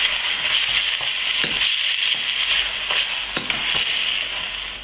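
Tomato purée is stirred into mutton ragout in a hot pan, with a continuous sizzle and periodic scraping strokes of a utensil along the pan bottom, close and fairly loud.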